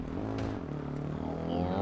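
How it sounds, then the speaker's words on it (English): An ATV engine revving in the battle royale game H1Z1, a throaty motor held at steady revs with a rising whine toward the end, with faint background sound underneath. "he's taking off, just revving that engine"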